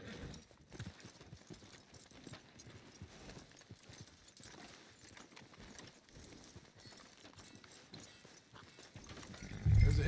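Horse hooves clip-clop at a steady walking rhythm in the Red Dead Redemption 2 video game, fairly faint and close, with no talking over them and a brief louder thump at the very end.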